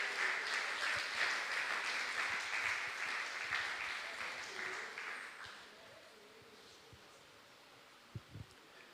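A congregation claps together in praise during a church service on anxiety and depression. The dense, steady clapping fills the first half, then thins and fades to a quiet room with a few faint stray sounds near the end.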